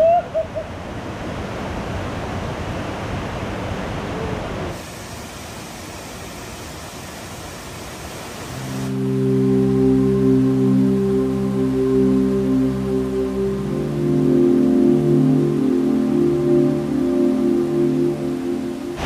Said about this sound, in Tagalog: Meron tayong dadaanan dito na isang malaking waterfalls at tinatawag nila itong Bagging Falls